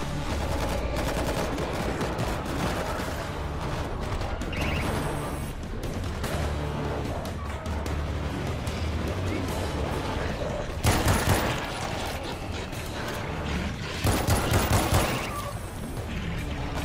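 Automated turret in World War Z laying down sustained rapid fire, a continuous dense rattle of shots lasting over sixteen seconds, with louder bursts toward the end.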